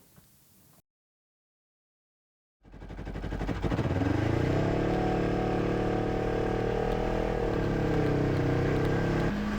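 A boat engine in icy Greenland waters starts after a moment of silence and settles into a loud, steady drone with a rough mechanical rumble and a slight rising note, running continuously and close by.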